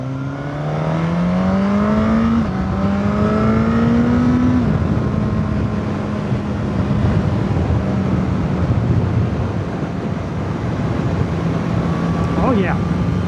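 A 2023 Suzuki GSX-S1000 motorcycle engine drones steadily through sweeping twisty corners, its pitch rising and falling with throttle changes, loud and close over constant wind rush; no one speaks.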